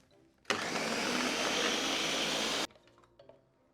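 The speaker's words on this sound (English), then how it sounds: "And then we just blend it all up." A kitchen blender whirs as it purees cottage cheese, eggs and salt into a dessert batter, starting abruptly with a loud, steady motor roar for about two seconds before cutting off sharply, leaving faint kitchen rustles.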